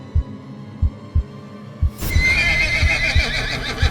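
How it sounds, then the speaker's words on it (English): A horse neighs loudly in a single shrill burst, preceded by several evenly spaced low thumps like heavy hoofbeats or a pounding heartbeat in a tense, empty ghost town. "he heard the horse neigh loudly"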